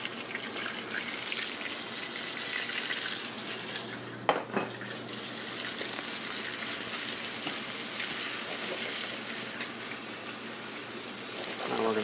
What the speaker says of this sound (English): The crabs are cooked in a preheated cast iron skillet with a half an inch of canola oil.